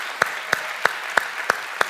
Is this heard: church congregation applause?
yes